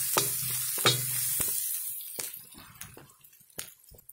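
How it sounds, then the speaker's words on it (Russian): Onion and garlic sizzle while being stirred in a cauldron over an open fire, with scraping spoon strokes breaking through a steady frying hiss that grows quieter and more sparse toward the end. "Отправляем чеснок. Перемешаем. Обжарим вместе чесночком."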